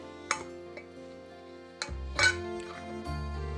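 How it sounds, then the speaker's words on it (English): Metal lids are set onto glass canning jars filled with sausage, giving a few bright clinks and ringing taps scattered over several seconds, close by and fairly quiet. "Now I'm just going to put a lid on each one."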